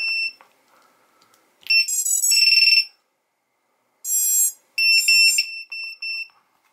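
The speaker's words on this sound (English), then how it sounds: "so we heard three more beeps there" A VIFLY lost drone finder alarm sounds a series of shrill, high electronic beeps: one long burst, then several shorter ones in quick succession, with no talking.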